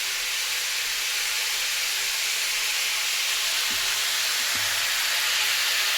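Pot of rice cooking on a home stove, giving off a steady, broad steam hiss that stays even throughout, with a couple of faint low thumps partway through.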